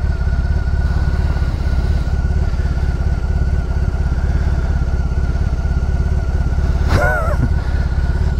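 A BMW R18 motorcycle engine running steadily close by, a loud, even low-pitched throb with a brief higher squeal near the end.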